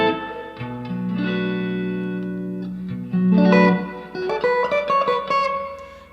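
Electric guitar chords ring out with long sustain and washy reverb, held notes blooming and overlapping before a few picked notes decay into the space.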